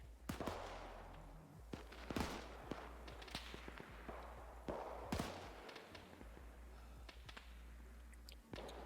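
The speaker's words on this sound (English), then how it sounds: "So that M2's firing at me" Bursts of M2 heavy machine gun fire in Arma 3, sharp cracks and short volleys at moderate distance, scattered over a quiet ambient bed.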